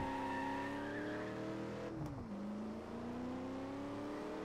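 Race cars in the Gear.Club Unlimited racing game, with an engine revving steadily, then dropping pitch around a shift or pass before climbing again. The sound is continuous, fairly quiet and heard alone.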